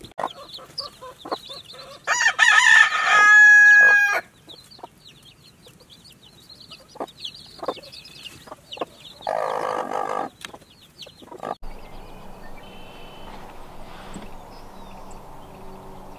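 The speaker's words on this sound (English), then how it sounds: "This is Foggy's second round of babies for the year. She's the one that hatched our below zero chicks" A mother hen clucks with her young chicks close by, soft repeated clucks and a few sharper calls in bursts, with outdoor noise and quiet gaps between them.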